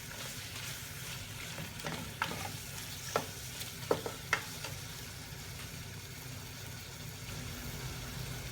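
Spices fry in a pan for chicken korma with a faint continuous sizzle, while a spoon scrapes and knocks against the pan a few times in the middle.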